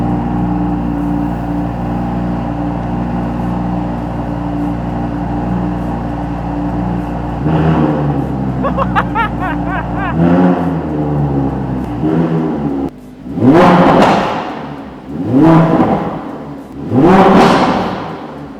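An Audi V10 supercar engine idles with a deep steady hum in a showroom, then revs hard in several loud, rising bursts, each roaring up and falling back.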